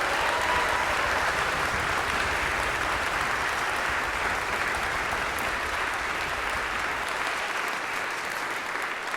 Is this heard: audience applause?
yes